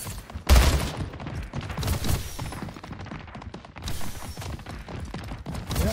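Rapid gunfire from the arena shooter Splitgate, a dense burst of sharp shots and thuds that rises and falls in waves over the whole stretch, fairly loud with no talk.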